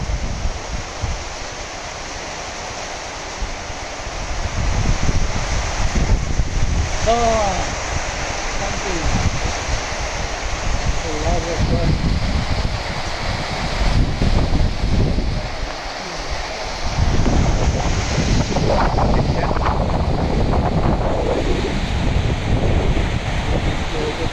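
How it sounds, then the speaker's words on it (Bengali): Heavy rain drums on a tin roof in the hills as a dense, steady roar that swells and eases, with voices briefly talking over it. "প্রচন্ড বৃষ্টি পাহাড়ে।"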